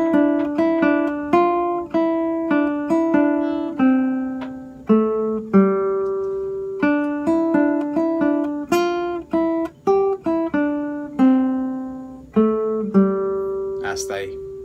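Guitar playing a melodic phrase, clear plucked single notes in a lilting rhythm, close and prominent with decaying tones and no talk over it.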